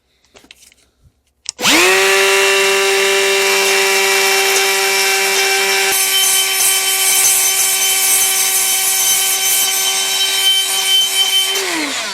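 A coarse abrasive roll on a high-speed die grinder textures a 350 Vortec cylinder head port, giving a loud, steady whining hum after a sharp spin-up, sustained for about ten seconds with a gritty grinding edge.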